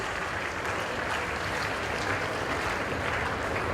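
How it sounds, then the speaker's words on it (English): Continuous dense applause from a convocation audience honouring gold medalists, loud and steady throughout with no pauses. "A big round of applause for the gold medalists,"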